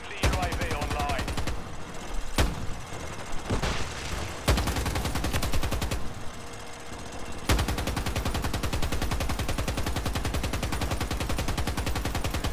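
A remote turret in Call of Duty MW3 on the Rust map fires long, rapid automatic bursts broken by brief pauses, loud and close, with a voice speaking now and then.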